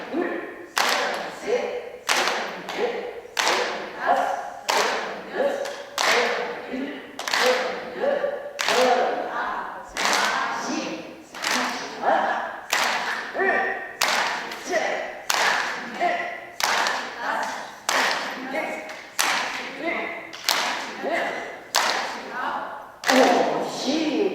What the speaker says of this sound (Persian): تشویق تشویق